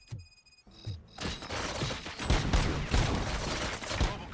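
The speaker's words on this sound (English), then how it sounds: "Gunshots? What's going on?" Rapid bursts of gunfire crackle close and loud after a brief electronic tone, shots overlapping in a ragged fusillade that keeps going to the end.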